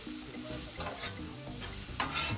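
Onions sizzling and crackling steadily on a hot Blackstone 22-inch griddle, with intermittent scraping and stirring sounds from a spatula, up close and continuous with no talking.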